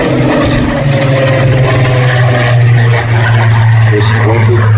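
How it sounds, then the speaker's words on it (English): A Supermarine Spitfire in photo reconnaissance blue passes at an air festival display, its piston engine a loud steady drone with a strong low hum, while an announcer talks over it throughout. "from your right, the unmistakable elliptical wings of the Supermarine Spitfire."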